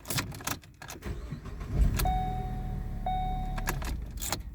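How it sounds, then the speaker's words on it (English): A 2014 Ford Focus is started with a newly programmed key: keys jangle, the starter whirs twice with brief electronic chimes, and the engine catches and settles into a steady idle close by. "verify that both keys start the vehicle"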